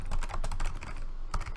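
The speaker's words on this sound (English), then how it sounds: "Typing." Rapid typing on a computer keyboard during an online tabletop game session, with dense, close clacking keystrokes in quick bursts and no voices.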